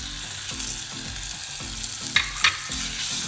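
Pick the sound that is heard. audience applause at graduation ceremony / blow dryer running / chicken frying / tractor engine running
chicken frying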